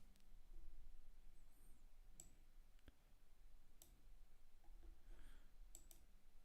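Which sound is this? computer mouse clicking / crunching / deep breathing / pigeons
computer mouse clicking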